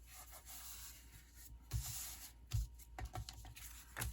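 Soft rubbing of a glued, embossed card layer on a Stampin' Up! layered florals card, quiet scraping strokes with a few brief louder thumps near the end.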